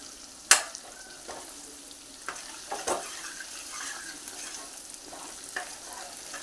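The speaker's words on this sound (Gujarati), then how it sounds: "એને સરખી રીતે મિક્સ કરી લેવાનું છે અને તેલમાં સાંતળી લેવાનો છે" Onion coated in spice masala is sautéed and mixed in oil, giving a soft, low sizzle punctuated by a few distinct spoon clacks and scrapes against the pan, with no speech.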